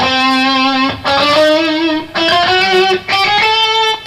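Distorted electric guitar plays a chromatic scale starting on E, three notes per string, as a series of sustained, rising notes held about a second each, loud and close with no talking.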